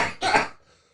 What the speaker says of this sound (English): Got a little bit of a cough there.